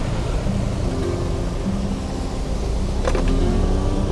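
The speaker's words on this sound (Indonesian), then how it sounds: "Wow, mantap sekali, deras sekali aliran airnya guys." Rushing floodwater in the Kali Karangsatria river in Tambun Utara: a loud, continuous roar of fast-flowing water, close and unbroken, with no talk.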